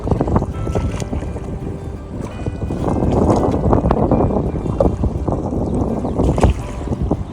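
Steady rumble of water and wind around a small boat heading back to harbour from a creek at Mulgaon Koliwada, with waves washing against the hull. The wash is continuous and fairly loud, with no voices.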